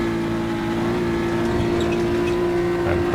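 A race car engine held under modulated part throttle through a sequence of corners, giving a loud, close, continuous droning tone with only slight rises and dips in pitch.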